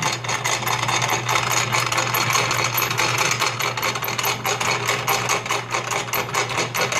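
Motor-driven Enterprise No. 50 grist mill grinding feed grade whole wheat, a loud, continuous rapid clattering rattle over a steady low motor hum.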